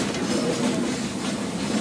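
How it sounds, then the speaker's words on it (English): A slow passenger train rolls along the rails with a steady rumbling drone and faint rhythmic wheel clatter, heard from on board and continuous throughout. "It's a real train. And it doesn't go fast."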